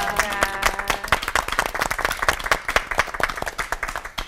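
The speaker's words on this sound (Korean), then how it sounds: "세 분 목사님께 뜨거운 박수 부탁드리겠습니다" Sustained applause from a Korean TV lecture studio audience for three pastors, steady dense clapping filling the whole stretch with a few sharper claps standing out.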